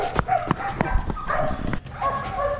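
A very large explosive-detection sniffer dog at a K9 training center barks several times in quick, loud yips and bow-wows, with faint voices around it.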